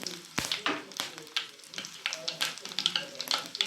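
Dry red chillies crackle and sizzle as they go into hot oil with spluttering mustard seeds and urad dal during a Tamil home tempering for pomegranate poriyal, with sharp pops scattered irregularly over a steady close frying hiss.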